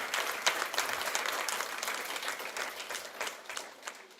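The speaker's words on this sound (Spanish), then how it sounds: "Si va a aplaudir, apláudele al Señor de corazón." A church congregation claps at a Spanish-language sermon, a dense, fairly quiet wash of applause that stays steady and then slowly thins out.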